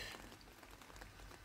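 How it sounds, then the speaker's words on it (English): Light summer rain patters steadily on leaves and shrubs outdoors, soft and even with no voices. "rain"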